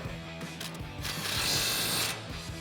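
An impact wrench with a 19mm socket tightens a castle nut on a truck suspension during a coil-over install, giving close, loud, rapid hammering bursts with a brief higher whine in the middle.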